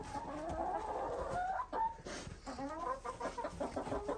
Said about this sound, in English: Oh, June, did you get scared by the chickens